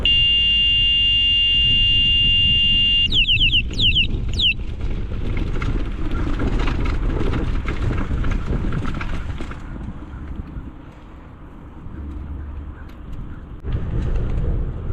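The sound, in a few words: boat horn buzzing like an alarm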